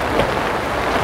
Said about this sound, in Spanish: Se vino la lluvia.